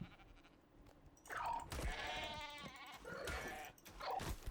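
Sheep bleat in the video game Ark Survival Ascended, with several wavering calls heard in a row, fairly close and clear, over a quiet background.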